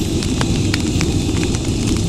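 Sliced onions and ginger-garlic paste fry in hot oil for a village-style coriander chicken curry, giving a dense, continuous close sizzle with scattered small pops and crackles.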